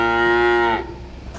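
A single loud, close cow moo, long and tonal, holds steady for nearly a second before cutting off into quiet background noise.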